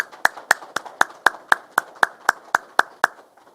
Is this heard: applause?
yes